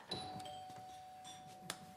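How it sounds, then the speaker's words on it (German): A doorbell chimes faintly in a stage play setting, a couple of soft ding tones sounding over quiet room noise with a few small knocks, no talk. "Es hat geklingelt."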